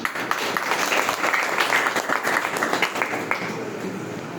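Sustained applause from an audience at the opening of an arts academy, many hands clapping densely and steadily throughout.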